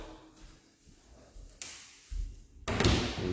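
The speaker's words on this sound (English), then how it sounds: "These ball catch doors for the master bath. They don't swing." Ball catch doors to a master bathroom in a house are handled, giving a couple of soft knocks and a final louder thump as a door closes, with faint room noise between.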